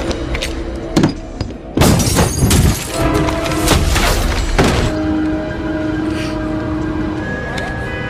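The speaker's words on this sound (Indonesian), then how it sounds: "anak buah Teddy datang dan langsung menyerang Evelyn dengan melemparkan granat" Grenade attack in an action film, with loud crashing, shattering and thudding impacts bursting out amid film sound and a voice, then a rumbling, ringing aftermath.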